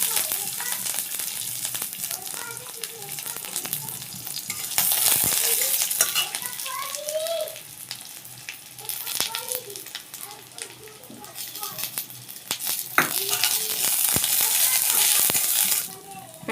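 Black cumin seeds and garlic sizzling in oil in a pan, a steady frying hiss with stirring scrapes and small clinks throughout, while a voice talks at times.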